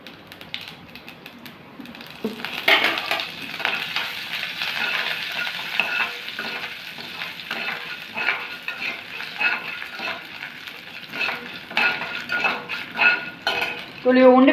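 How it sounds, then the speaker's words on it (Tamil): Mustard seeds spluttering and urad dal frying in hot oil for amla rice, a crackling sizzle with rapid popping and repeated spoon scrapes against the pan, steady and close. "கடுகு பொரிஞ்ச உடனே உளுத்தம்பருப்பு"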